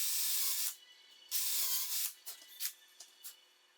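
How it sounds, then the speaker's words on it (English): A sharp boring bit drills into wood at a workbench, giving a loud rasping, hissing bore for two long stretches, then several short scraping bursts as the bit is eased in and out. "A sharp boring bit and we're rolling."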